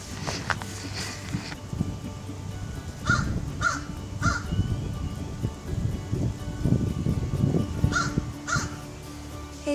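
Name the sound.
crows cawing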